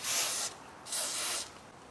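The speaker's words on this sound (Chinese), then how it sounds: "在这个螺丝里面的孔里都给它喷点除锈剂" Two short hissing bursts of aerosol rust remover are sprayed into the bolt holes of a Chevrolet Cruze front wheel hub during a wheel bearing replacement, close and fairly loud, with a brief pause between them.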